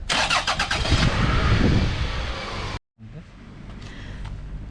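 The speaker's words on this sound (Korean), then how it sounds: "시동을 몇 달 동안 안 걸어서 배터리를 충전했어요." Car engine starting in New Zealand after its battery was charged following months unused, a loud close cranking that catches into a rough running engine, cut off abruptly, then a quieter idle-like rumble.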